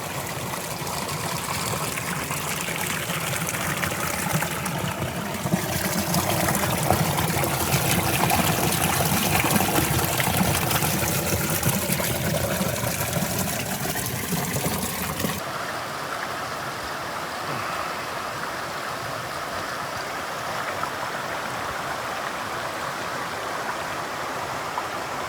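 Creek water flows and babbles steadily near a campsite on a motorcycle camping trip, a close, continuous rushing that eases slightly partway through.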